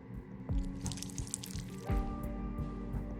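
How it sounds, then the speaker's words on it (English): Water drips and splashes in the video game Whispers of a Machine as it is added to a clay mold, with a few distinct plops over a low background hum and soft chimes. "I'll go and add some water."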